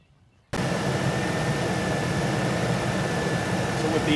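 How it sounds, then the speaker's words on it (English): An engine of a 2003 Ford Expedition starts abruptly after a brief quiet moment, then settles into a steady, loud idle with a constant hum. "Now I'm gonna go ahead and start the vehicle"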